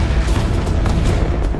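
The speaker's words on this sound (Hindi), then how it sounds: "गाड़ियों के दरमियान से उस जमाने के सबसे लेटेस्ट कैनन्स, तोपों ने एक साथ फायरिंग स्टार्ट कर दी।" Cannon fire from a historical battle, heard as a continuous rumbling barrage of deep booms and bursts that roll together densely and loudly with no pauses.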